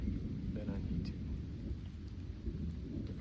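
Deep, continuous rumbling thunder from a nearby lightning storm rolls steadily, with a wash of rain-like noise underneath and no clear voices.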